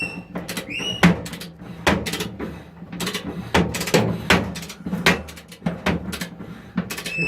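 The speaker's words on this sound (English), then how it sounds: "I'm tightening up the other bolt, or the shaft," Tightening a bolt on the drum bearing shaft of a Fisher & Paykel dryer, a series of close metallic clicks and ratcheting clanks in an uneven rhythm, with small scrapes between strokes.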